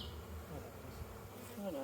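Honeybees buzzing at a Flow hive, a faint, continuous hum of many insects with a few nearer individual buzzes passing close.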